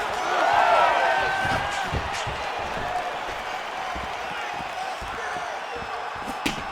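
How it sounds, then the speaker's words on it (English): Arena crowd at a UFC fight between Khamzat Chimaev and Sean Strickland, a steady roar of cheering and applause with sharp slaps and thuds of strikes landing throughout, loud and continuous. "Crowd continues to sway with every huge shot being landed."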